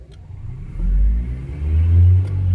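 A 1988 Pontiac Fiero converted to an electric motor whirs up as the pedal is pressed out of gear, a low hum rising in two surges, close and moderately loud.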